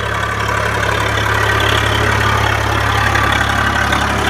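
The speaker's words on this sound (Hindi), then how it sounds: "सुराज ट्रैक्टर आता हुआ, अपना पावर और प्रदर्शन दिखाते हुए" A Swaraj 742 FE tractor engine runs at a steady, loud, close-range drone through a field where a rotavator is in use. The low rumble holds constant with no speech.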